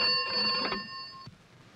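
A telephone rings in an indoor scene from the Hindi film Loafer, a single bright electronic ringing burst with steady tones that cuts off abruptly, heard alone without voices.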